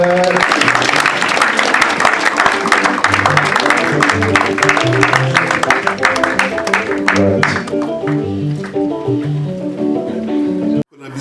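Church congregation clapping and cheering during a worship service, a dense sustained applause over music with a steady rhythmic pulse, fading near the end.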